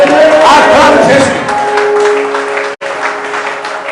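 Church congregation at a French-speaking seminar applauding and cheering for Jesus, a loud sustained wash of clapping and voices close by, fading slightly before a brief dropout near the end.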